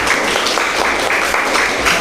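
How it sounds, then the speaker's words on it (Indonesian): Classroom applause from a group of students at the end of a lesson, steady dense clapping close by, continuous and fairly loud throughout. "tepuk tangan untuk kita semua sekali lagi."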